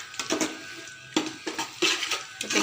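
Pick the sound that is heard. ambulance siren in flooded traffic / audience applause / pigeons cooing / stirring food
stirring food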